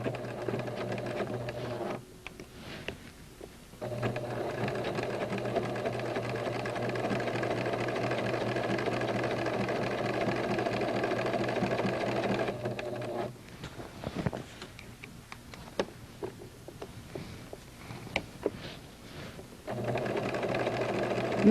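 A sewing machine stitching a casing, running in long steady bursts of fast mechanical whirring with short pauses and small clicks between runs, close and alone.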